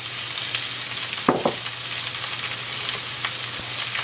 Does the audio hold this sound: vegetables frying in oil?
yes